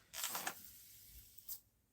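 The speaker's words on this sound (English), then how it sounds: "it's one of them continuous spray bottles where you press it once and it keeps spraying" A continuous spray bottle of rosemary hair spray releases a faint, close hiss in two short bursts, the first longer than the second.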